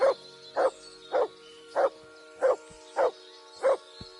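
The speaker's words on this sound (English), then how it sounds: "Good dog, Max. Show me" A dog barks seven times in an even, steady rhythm inside the medieval video game Kingdom Come: Deliverance 2, each bark short, mid-loud and fairly near, with quiet game ambience between.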